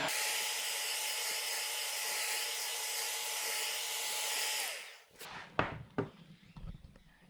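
A heat gun blows a loud, steady hiss and whine while warming vinyl over a foam and cardboard door panel, then shuts off and winds down, followed by scattered handling clicks and taps.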